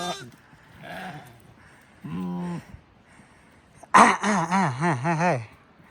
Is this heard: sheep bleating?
yes